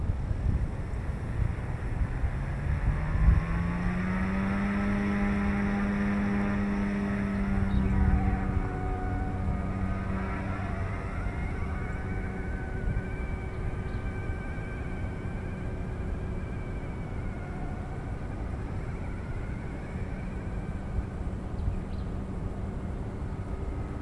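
A Yuxiang F150 RC helicopter fitted with green 155mm rotor blades spins up outdoors, its whine climbing steadily in pitch over several seconds, then holding a steady high hum under light wind noise.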